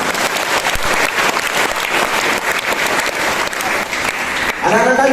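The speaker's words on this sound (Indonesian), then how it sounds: "Tepuk tangan." An audience at a student character-building gathering at an Islamic university dormitory bursts into loud, close applause that carries on evenly, then a voice cuts in near the end.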